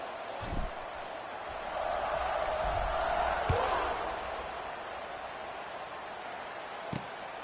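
A stadium crowd in the NCAA '26 football video game buzzes in a steady, distant roar that swells midway and then settles, with a few faint thuds over it.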